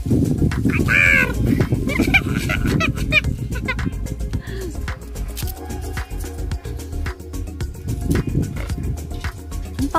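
A bird calls on a farm in a few short, sharp cries, mixed with clopping and other farm noise while people talk nearby.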